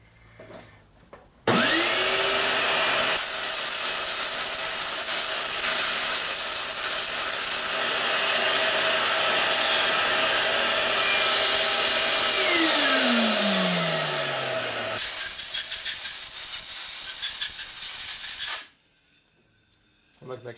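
A compressed air line blasts continuously for about seventeen seconds, blowing off a part during a 1965 Harley-Davidson 74ci Panhead FLH engine rebuild; the hiss is loud and close and drops away sharply at the end.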